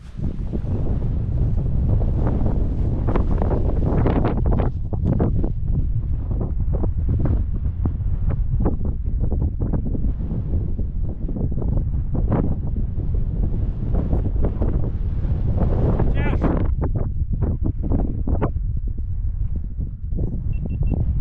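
Strong wind buffets the microphone at a boggy mountain wild camp in sub-zero conditions, with continuous loud rushing and gusty rumble behind a rock shelter.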